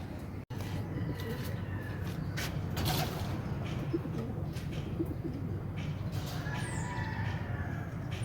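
Pigeons in and around a loft on a morning with sun and cloud, with steady cooing, wing rustles and creaking from the loft structure under an even background.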